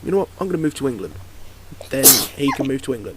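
A loud sneeze bursts out midway through casual podcast chatter, with several people talking before and after it.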